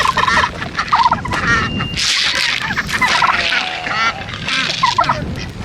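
Several turkeys gobble and cluck close by in a noisy flock at feeding time, with other bird calls mixed in.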